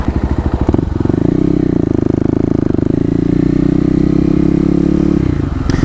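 A Kawasaki KLX250 motorcycle ridden close up, its engine loud and droning, pulsing at idle before revving up into a steady hum that holds for several seconds and then drops back.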